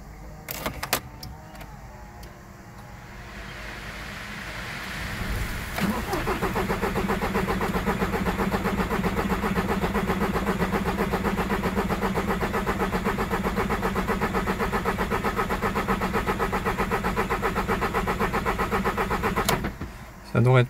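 VW Golf 4 GTI TDI diesel engine started after a turbo replacement: a few clicks and a short crank, then the engine catches and settles into a loud, steady idle, with speech around it.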